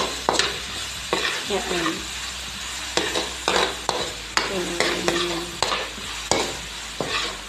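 Garlic and onion sautéing in a little cooking oil for stuffed milkfish, with a soft steady sizzle broken by repeated scraping strokes of a spoon against the pan; a voice speaks briefly.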